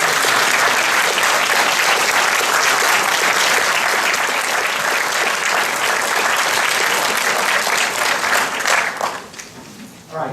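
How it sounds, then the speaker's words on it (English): Sustained, loud applause from the audience at a university mathematics graduation ceremony, a dense wash of clapping that holds steady before tapering off near the end. "We'd like to thank you for all your hard work and give you a round of applause."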